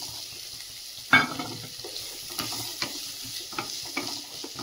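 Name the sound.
frying carrot, onion and capsicum in butter and oil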